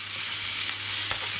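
Venison chops frying in butter in a pan over raised heat make a loud, dense, continuous sizzle close up, with one small clatter near the end and no voices.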